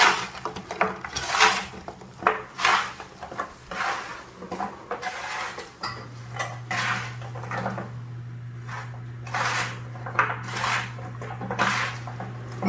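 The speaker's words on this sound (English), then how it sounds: "now I'm gonna mix this up with my hands, of course" Fajita sausage pasta ingredients tossed by hand in a bowl, with soft irregular clatters, knocks and rustles, plus a steady low hum in the background.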